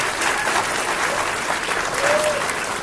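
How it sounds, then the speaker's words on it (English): Applause from the audience at a public comment meeting, loud, continuous clapping from a crowd that fills the whole stretch without letup. "I'm going to ask that everyone hold their applause so that we can get to the speakers."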